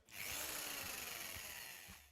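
Electric drill whirring steadily at close range for about two seconds, a loud continuous high motor whine with faint rhythmic low thumps underneath, alone.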